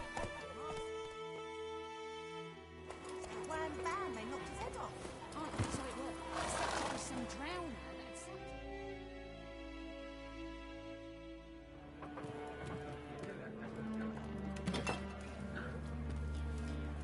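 Roach, a horse in a video game, gallops with rhythmic hoofbeats and lets out loud neighs and whinnies over a game soundscape, with a voice speaking in places.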